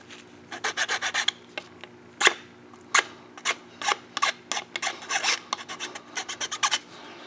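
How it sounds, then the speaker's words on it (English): A hand file rasps a small leftover nubbin smooth on a dirt bike part, making quick repeated scraping strokes in uneven bursts, close and fairly loud, with no one talking. "so let's take a file."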